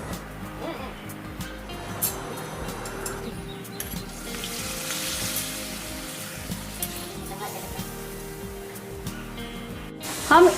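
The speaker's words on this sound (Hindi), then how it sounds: "अभी हम पापड़ फ्राई करेंगे पोहे में मिक्स करने के लिए।" Papad frying in hot oil for mixing into poha for a Diwali snack, a steady soft sizzle and crackle running throughout at close range, with a few brief clatters near the end.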